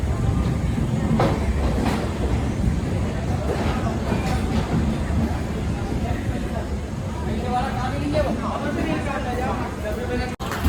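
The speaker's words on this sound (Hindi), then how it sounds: "2 नंबर प्लेटफॉर्म पे अराइविंग करती हुई" The 12688 Chandigarh–Madurai Superfast Express rumbles steadily into platform 2 near Virangana Lakshmibai station with rolling clatter, loud and continuous, while a murmur of crowd chatter and a few sharp clanks sit underneath.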